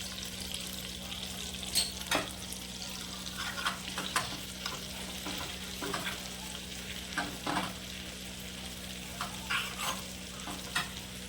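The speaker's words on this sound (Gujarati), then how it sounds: "તેમાં આપણે આજે આદુ ને લસણ, તેમાં મેં થોડી કાશ્મીરી મિર્ચ નાખીને એને વાટી લીધું છે. તેને આપણે એમાં નાખીશું." Ground ginger, garlic and Kashmiri chili paste frying in hot oil while being stirred, giving a steady sizzle punctuated by repeated spatula scrapes and clinks against the pan, close and without talking.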